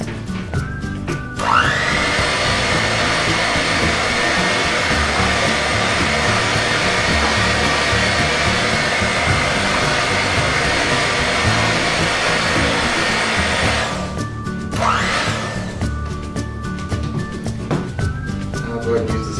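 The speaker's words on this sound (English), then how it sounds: "And once again, we're going to blend it in." An electric hand mixer whirs steadily through sweet potato casserole mixture with added vanilla extract and salt, a loud continuous motor drone lasting over ten seconds before it winds down and stops.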